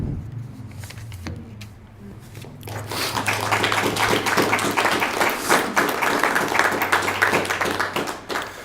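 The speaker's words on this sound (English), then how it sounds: "you have to clap for me" Audience applause at a poetry reading in a library, a dense broadband wash of clapping that swells from about three seconds and carries on steadily, fairly close and loud, after a brief quieter stretch.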